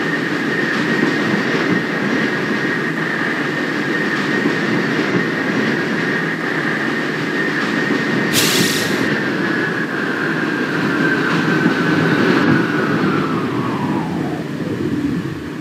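A 4480 train moving fast makes a loud, continuous rumbling roar, with a steady high whine that drops in pitch near the end and a brief hissing burst midway.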